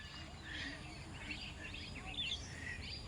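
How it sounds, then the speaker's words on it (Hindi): Parrots call from a village field in quiet chirps and whistles, several short high notes scattered over soft outdoor background noise, fairly distant and faint. "ये तोता की आवाज़ सुनाई शायद दे रही होगी आप सबको।"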